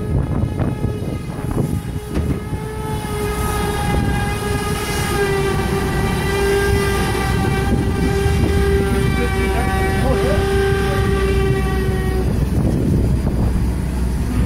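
The Southern Pacific 745 holiday excursion train, heard from the vestibule as a long, loud, steady whistle sounding for about twelve seconds over the continuous rumble of rolling cars.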